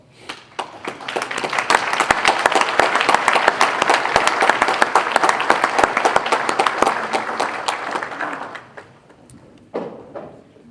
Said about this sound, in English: I would like for our committee members here today to please stand and enjoy a round of applause.